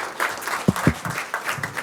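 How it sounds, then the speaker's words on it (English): Audience applause for students at a school board meeting: a short patch of scattered clapping from a modest crowd, fairly soft, with a few sharper claps standing out. "let's give them another round of applause"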